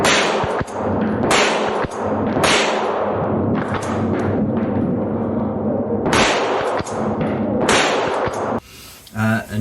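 Schmeisser SP9 9mm straight-pull rifle bolt worked repeatedly, a string of sharp loud metallic clacks and snaps at close range in quick succession, with brief pauses between strokes.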